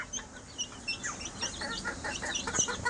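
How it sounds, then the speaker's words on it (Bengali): Police cap breed chickens give soft, quiet clucks and short calls in a barn setting, a faint scattered murmur of several birds. "আর এখানে আমাদের পুলিশ ক্যাপ মুরগি,"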